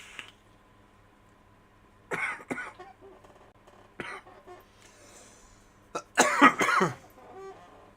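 Several separate coughs spaced over a few seconds, ending in a louder, harsh cluster of hacking coughs close to the listener.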